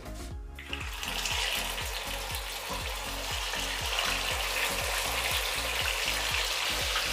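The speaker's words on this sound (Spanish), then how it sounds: "Una vez que se caliente, vamos a freír nuestro pollo." Chicken wings fry in a pan of extra virgin olive oil, a dense, loud, continuous sizzle and crackle close up, with a rapid regular bubbling pulse running underneath throughout.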